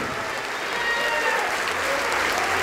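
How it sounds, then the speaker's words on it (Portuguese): Applause from a congregation during a church service, steady and continuous for the whole stretch, dense and fairly close with a faint murmur of voices mixed in. "Vamos aplaudir ao Senhor Jesus por cada vida que está chegando."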